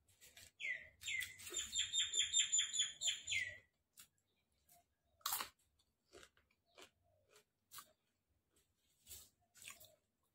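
Crisp chips of deep-fried unripe durian are chewed in a string of short crunchy bites, after a brief bird chirp near the start; quiet and close.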